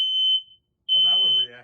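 A smoke alarm set off by canned test smoke gives a loud, piercing electronic beep, breaks off briefly, then sounds again while a person talks over it.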